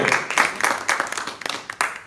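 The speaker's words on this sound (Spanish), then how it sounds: "Un aplauso a Dios de eso" A church congregation bursts into brief, brisk applause, many hands clapping together in a dense, fairly close patter that lasts about two seconds.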